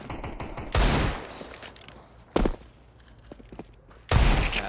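Gunshots in the video game Counter-Strike 2, three sharp loud bursts spaced apart over a low background of game ambience.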